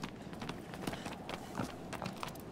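Horse hooves clip-clop at a steady trot in Shadow of the Colossus Remastered, quick, soft repeated thuds over game ambience, fairly quiet.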